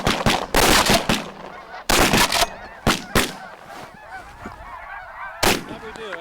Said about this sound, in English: I knew to expect to see a variety of geese up there, but the numbers of geese were just incredible